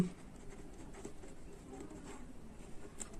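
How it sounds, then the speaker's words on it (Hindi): Someone writes by hand during a percentage maths lesson, a faint, continuous scratchy patter of pen on paper with no voices. "चलिए यहाँ पे लिखते हैं"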